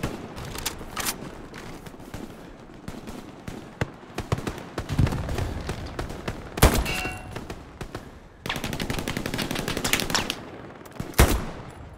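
Rapid machine-gun bursts and single gunshots from the World War II shooter Hell Let Loose crackle on and off throughout, some sharp and near, others rolling in the background, with no talk.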